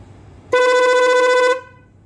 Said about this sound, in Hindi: अब मैं इसके साथ आपको हॉर्न चेक करवाता हूँ।